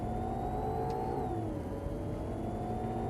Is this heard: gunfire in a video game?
no